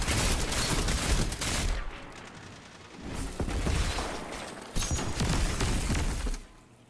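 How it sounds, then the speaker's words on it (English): Bursts of rapid gunfire from a weapon in the video game Destiny 2, played on Xbox One, come in dense volleys with short pauses between them, loud and close with no talk over them. "I love this gun because it sounds like the BR."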